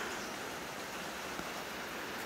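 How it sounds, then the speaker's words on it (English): Steady rain falling outdoors around a trailer with bolted-on boat boards, a dense, even hiss with no pauses or talk, moderately loud throughout. "And it is now raining harder."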